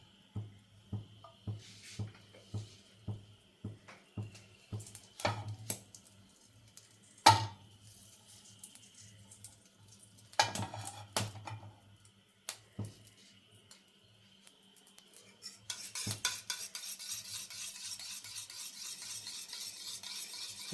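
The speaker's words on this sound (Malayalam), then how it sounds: "പാനിനകത്തോട്ട് ഇച്ചിരി എണ്ണ ഒഴിച്ചു കൊടുക്കാം." A metal spoon clinks repeatedly against a pan, with scattered sharp taps and a scraping stir in the middle, before a soft, spreading sizzle rises once oil goes into the hot pan near the end.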